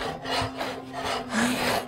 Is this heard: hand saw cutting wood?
yes